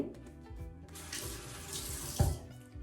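Water runs from a tap onto hands in a short, steady stream that hisses at moderate volume, broken by a brief splash or thump near the end.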